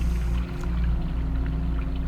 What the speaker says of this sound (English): There's water noises now.